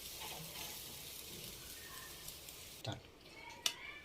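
A colorful omelette with capsicum fries on a low flame as a soft, steady sizzle, faint and close. A couple of small clicks of the utensil come near the end.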